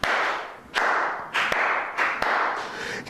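A church congregation claps and cheers in praise during a French-language worship service, broad crowd noise swelling in waves with several sharp, loud claps and thuds standing out.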